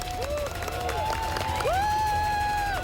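A crowd cheers and whistles at an American Ninja Warrior regional course, several shrill rising and falling whistles over a steady background roar.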